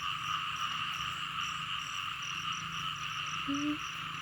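A dense chorus of frogs drones steadily outdoors after rainfall, layered and unbroken, with a brief higher chirp near the end and no voices.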